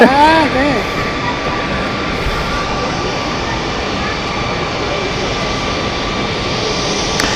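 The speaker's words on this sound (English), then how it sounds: "Okay, so 777-200 of United, just about to head off." A United Boeing 777-200 airliner at Zurich Airport, its jet engines a steady, loud roar heard close by as it prepares to depart, with a voice talking briefly at the start.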